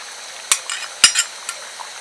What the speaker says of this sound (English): So you just stir it carefully